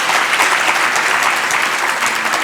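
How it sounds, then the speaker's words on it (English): An audience at a South Florida Muslim community organizations gala breaks into loud, steady applause, a dense wash of clapping hands filling the room without pause. "It's very nice of you to applaud, but just applaud when you hear my name."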